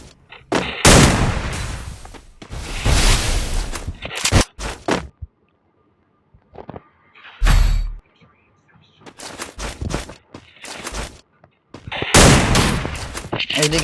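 Video game gunfire comes in loud, sharp bursts and rapid volleys separated by short silent gaps, close and dominant throughout.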